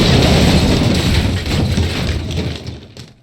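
Collapsing debris sound effect from Unreal Engine starter content: a loud, dense rumble of crashing and crumbling material that sustains for about three seconds, then thins out and fades away.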